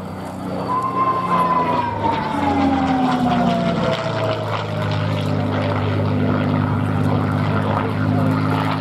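Hawker Hurricane WWII fighter at an air show, its piston engine droning from a distance as it passes overhead, a steady roar with a falling pitch.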